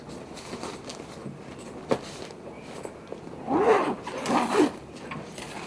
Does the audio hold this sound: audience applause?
no